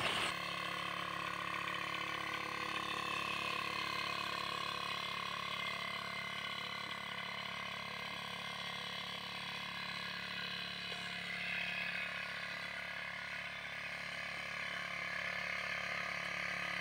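A backpack sprayer pumps steadily while spraying newly planted cucumbers on a farm, giving a continuous mechanical whir with faint ratcheting clicks, fairly quiet and unbroken throughout.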